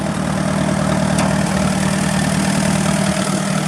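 An Allis-Chalmers WD tractor engine idles steadily right after starting, a loud, close, continuous low rumble with an even mechanical throb and no talking.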